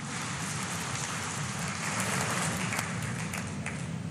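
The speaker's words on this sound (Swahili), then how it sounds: "Na katika hili naombeni tujipigie makofi tena mengi sana" A large audience at a Yanga SC general meeting applauds. The clapping forms a dense, steady wash that holds at an even level throughout, with no voices standing out.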